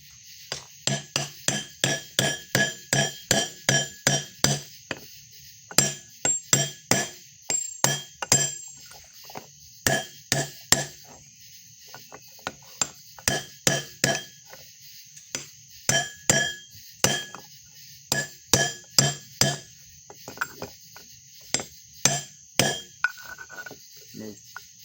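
Sharp metallic clinks from a hammer beating on a steel socket extension during a Ford 4R100 transmission rebuild, struck in a steady run of dozens of close, loud blows with brief pauses.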